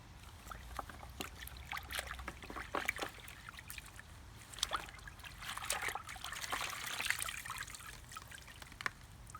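A frost-sensitive annual plant is washed with water, giving soft trickling and splashing with irregular drips and spatters, fairly quiet and close, with no voices.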